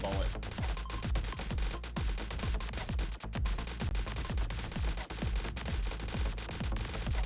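Rapid continuous gunfire from the super bullet weapon in the game Medarot Survivor, a dense rattling stream of shots over game music.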